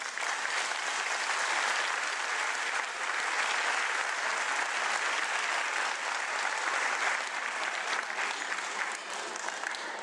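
A large audience at an end-of-year school festival gives a long, loud round of applause, dense and continuous for ten seconds with crowd noise mixed in.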